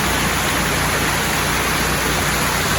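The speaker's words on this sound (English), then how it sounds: "There's a good waterfall on up yonder, but I don't know how you get up to see it." A creek rushing beneath a small bridge in the mountains, with a waterfall farther up, forms a loud, unbroken wash of water noise without any voices.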